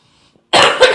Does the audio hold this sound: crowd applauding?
no